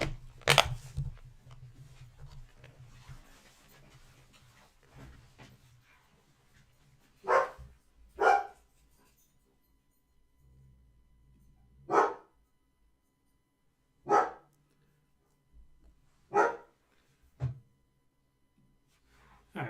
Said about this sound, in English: we can hear them a little bit when they bark